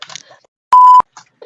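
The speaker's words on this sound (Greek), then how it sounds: "Και εδώ θα βάλω μπιπ." Censor beep sound effect: a single loud, steady electronic tone lasting about a quarter second, cutting sharply between snippets of talk.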